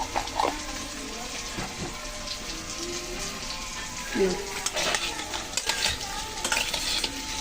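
Potatoes frying in a pan, a soft steady sizzle with occasional stirring scrapes and light utensil clinks, fairly quiet, with someone speaking intermittently over it.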